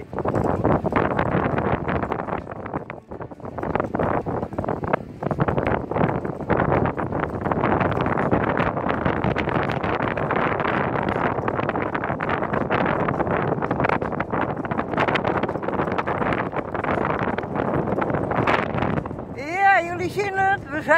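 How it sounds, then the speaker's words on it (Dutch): Strong wind blows across a dike, roaring and buffeting the microphone in a constant rumble beneath a person talking throughout. "En het waait hier als ik weet niet wat."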